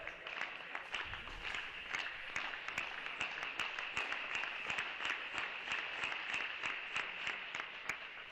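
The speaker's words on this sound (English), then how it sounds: "the crowd starting to clap it up for Cisco here." Crowd applause at an MTSU versus Princeton college men's tennis match: dense, steady clapping from many spectators that carries on without a break and stays at an even level throughout.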